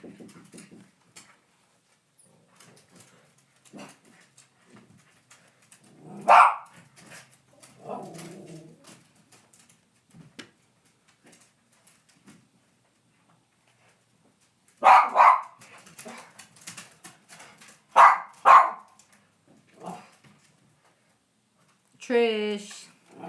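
Dog barking indoors in short separate bursts, a few loud close barks spaced across a quiet room with occasional soft sounds between.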